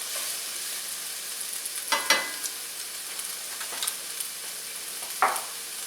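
Kung pao chicken stir-frying in a hot wok: a steady broadband sizzle with a few sharp scraping stirs of the spatula, close and fairly loud, no one speaking.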